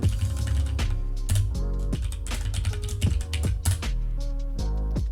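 Typing a username and password on a computer keyboard, close rapid key clatter in irregular bursts lasting throughout, no talking.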